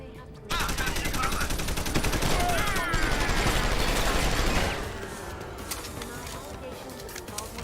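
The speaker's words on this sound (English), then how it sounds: "These guys have got heavy weapons of some kind." Heavy weapons gunfire in the video game Deus Ex: Human Revolution, a dense, sustained burst of loud shots for several seconds before easing into a quieter battle-scene background with scattered reports.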